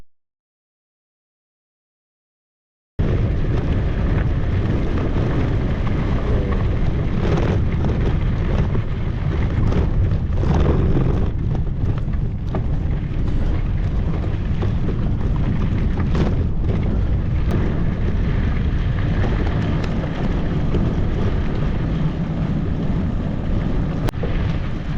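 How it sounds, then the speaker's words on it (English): Heavy headwind buffeting a microphone while bicycle riding on a long-distance gravel route, a loud continuous rumbling rush of wind noise after a few seconds of silence, steady throughout with no voices. "Been riding into a headwind."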